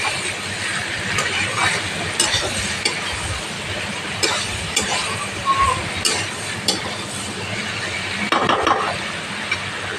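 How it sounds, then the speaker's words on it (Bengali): Hot water hits fried spice masala in a pan for a vegetarian jackfruit and bean-seed curry, giving a steady close sizzle with scraping stirs and occasional clinks. "আমি এখন গরম জল দিয়ে দিচ্ছি এর মধ্যে"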